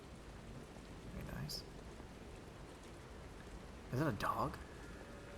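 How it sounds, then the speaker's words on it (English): Steady rain falls on a rainy night in Lies of P, a dark fantasy action game set in the city of Krat. The rain makes a constant background hiss, with someone talking briefly over it. "Rainy night."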